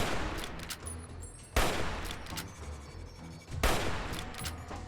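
Gunfire against a Deathclaw in Fallout New Vegas: two sharp loud shots a few seconds apart stand out over a dense, crackling rattle of continuous firing, no voices.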